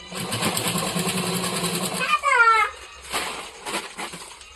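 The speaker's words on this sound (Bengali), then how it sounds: "দেখো আমি কীভাবে আজকে ডাবল সেলাই করছি" A sewing machine runs steadily while double-stitching seams on a homemade shopping bag, then stops and a brief rising whirr and a few clicks follow, with a voice talking nearby.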